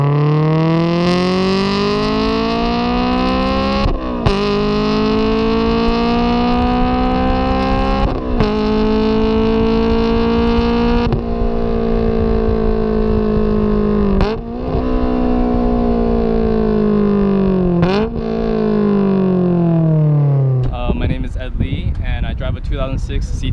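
A 2006 Mercedes C230 accelerates hard through the gears, its engine note climbing in long sweeps broken by several brief shift dips before easing off at the end, loud and close with wind noise.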